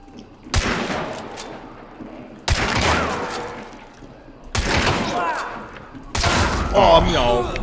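Gunfire in Hunt: Showdown bursts out in four loud, sharp volleys spaced about two seconds apart, each with a decaying tail, while voices talk in between.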